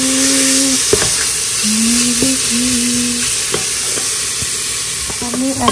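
Chicken pieces sizzle and fry in a pan while chicken soup is being made, a steady bright crackle broken by a few sharp clinks of a utensil against the pan.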